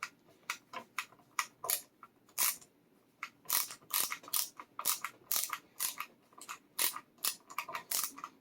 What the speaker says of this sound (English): We're going to take our neck off.